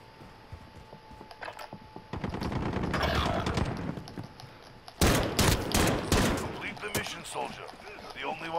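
Assault rifle fire in Call of Duty Modern Warfare, rapid automatic bursts with sharp crackling shots, one sustained stretch and then a louder burst of fire, close and loud, with occasional voices underneath.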